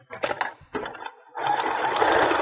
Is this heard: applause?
no